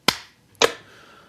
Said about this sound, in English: Hey, let's clap.